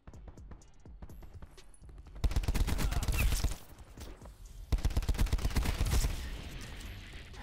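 A Call of Duty Black Ops 4 gunfight brings scattered shots and then two dense, loud volleys of rapid automatic fire with brief lulls between them.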